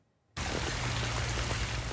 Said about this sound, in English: That's the sound of rain reaching the St. George Rainway last weekend.